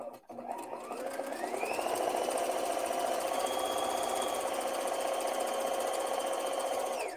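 A rotary hook sewing machine free-motion embroiders a shirt collar, starting up and speeding into a fast, steady mechanical whir with a rapid stitching rattle that runs on continuously.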